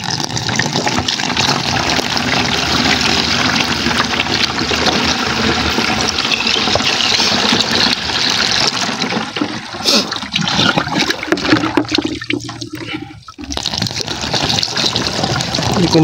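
An effervescent medicine tablet fizzing in a container of water, giving a loud, continuous hissing rush that thins and breaks up near the end.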